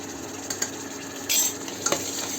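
Kitchen king masala being stirred and roasted in a pan with chole, a soft steady sizzle under brief scraping strokes and a couple of light utensil clinks, close and alone.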